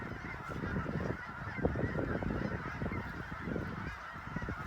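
A flock of geese honking steadily during migration, dense overlapping calls at moderate distance with a continuous busy texture and no talk.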